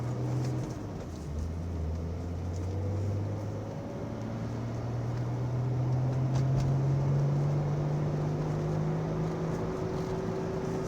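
A 1990 Nissan 300ZX Fairlady Z pulls onto a road, its engine droning steadily and rising gently in pitch as it gains speed, heard from inside the car with no talking.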